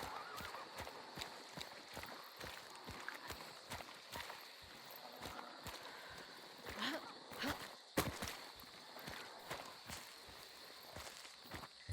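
A horse in the game Hunt: Showdown, steady clip-clopping hooves at a walking pace with a brief whinny, heard at moderate distance.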